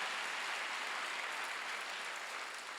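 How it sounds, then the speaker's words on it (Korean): A church congregation applauding during a Sunday worship service, a soft, even wash of clapping that stays steady and fairly distant throughout without a break. "박수로 하죠"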